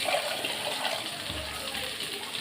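Water pouring steadily while cooking paruppu rasam, a continuous close gushing splash with a slight deeper surge partway through.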